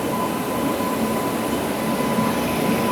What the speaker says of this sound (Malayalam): ഭുവനേശ്വർ പ്രശാന്തി എക്സ്പ്രസ് അങ്ങേറ്റത്തൊന്ന് പതുക്കെ വരുന്ന കാണാം.